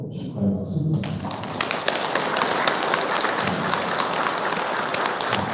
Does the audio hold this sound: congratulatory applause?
yes